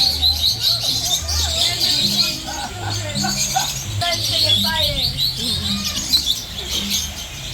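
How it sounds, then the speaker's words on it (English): Birds at a sanctuary chirp and tweet close by in a busy, overlapping chorus of short calls, with people talking underneath. "You guys are full of birds now."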